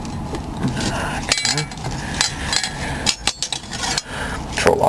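An airplane's metal control lock is pulled free and handled in the cockpit, making a run of close clinks, taps and rattles with short pauses between them.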